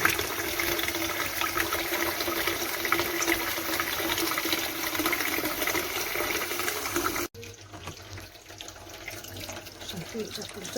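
Water pours and splashes into a stuffed sheep-intestine casing (bumbar) to rinse its inside, a loud continuous gushing stream like a running tap that cuts off abruptly, then quieter dripping and handling noises.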